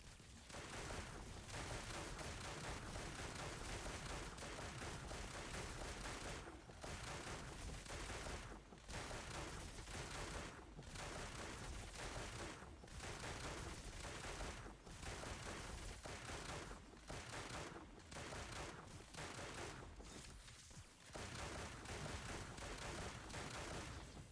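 Quiet, dense gun salvo firing in the video game Destiny Rising with a Helhest build, running almost continuously with brief gaps between bursts.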